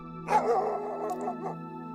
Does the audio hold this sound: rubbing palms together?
no